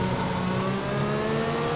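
Race cars in an F1 video game at the Great Britain round, accelerating hard at a safety car restart, give a loud, steady, layered engine roar with several whining tones that holds without a break.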